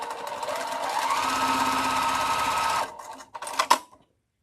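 Sewing machine stitching quilt pieces together in a rapid, even mechanical chatter for about three seconds, then a few short bursts before it stops and goes quiet.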